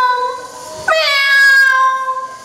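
A storyteller imitates a cat's meow during a Balinese folk tale, a loud close high-pitched vocal meow that rises and then trails off, heard alone.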